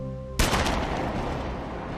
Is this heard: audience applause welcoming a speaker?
no